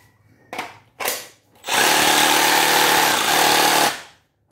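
A Makita JR187 reciprocating saw gives two short bursts, then runs steadily for about two seconds with a loud, buzzing, rattling drone before stopping, close and without talk.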